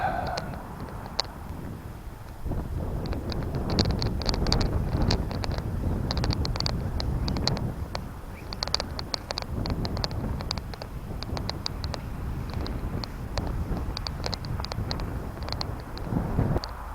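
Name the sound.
wind blowing while flying a kite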